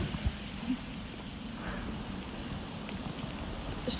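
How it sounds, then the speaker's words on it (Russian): Steady rain falls at an outdoor spa at night, a soft even patter of drops on water and surfaces continuing throughout, fairly faint and close, with no voices over it. "мы думали, заканчивается дождь, но нет"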